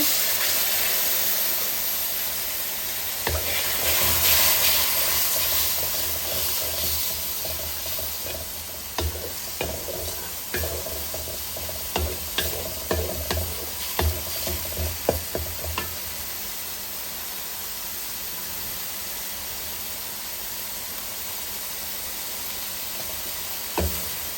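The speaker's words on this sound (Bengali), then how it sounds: "মশলাটা ভাজা ভাজা হয়ে আসছে ভালো মতো কষানো হয়েছে" Spice paste of turmeric, chili and cumin, loosened with a little water, fries in a pan for a prawn dish, hissing steadily throughout, with a run of rhythmic scraping stir strokes through the middle and no voices.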